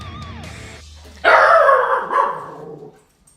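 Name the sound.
dog barking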